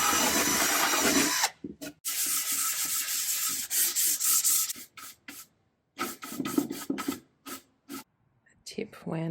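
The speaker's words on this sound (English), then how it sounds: "Tip when working with plaster is not to sand off too much" Sanding plaster applied to IKEA Hemnes furniture, close rasping strokes in repeated bursts with short gaps, a person speaking now and then in the pauses.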